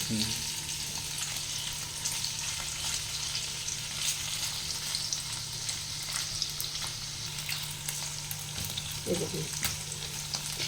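Paneer frying lightly in hot oil for a masala paneer dish gives a steady, close sizzle across the whole stretch, with a brief stir or scrape near the end and no talking.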